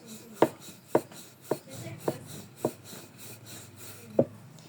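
Dough for potato-filled rolls is worked on a board with a rolling pin, giving six or so soft, evenly spaced knocks and thuds over a quiet kitchen background.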